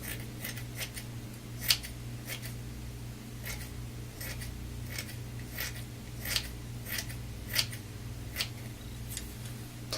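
Scissors snipping hair at an angle while layering, a steady series of short crisp cuts over a low steady hum, close and fairly quiet.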